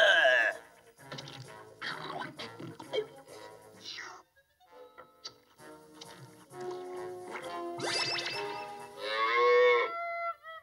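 Cartoon cow mooing in a Smurfs episode, a couple of drawn-out moos mixed with character voices and music.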